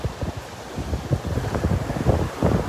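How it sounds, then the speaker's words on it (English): Gusty wind buffets the microphone on Delnor-Wiggins beach, a loud uneven rumble with surf washing faintly underneath, no voices. "The wind is kind of coming up from behind me now."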